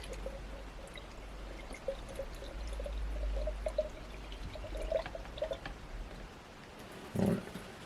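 Coolant pours from a jug into the radiator of a Yamaha WR250F motorcycle with a steady low gurgle, a soft trickle near by, and a short splash near the end, without speech.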